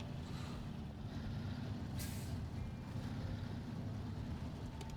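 A truck engine rumbles steadily in the SnowRunner video game, a constant low drone heard alone, with a brief hiss partway through.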